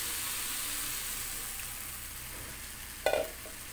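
Carrots and potatoes frying in a pan give a soft, steady sizzle, then a short burst of louder sputtering hiss as a little water hits the hot oil near the end.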